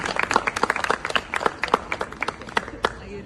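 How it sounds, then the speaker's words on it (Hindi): Scattered, individually audible hand claps from a modest audience at a yoga institute's anniversary celebration, an uneven patter of claps at close range with some talking mixed in. "तालियां बजती रहें"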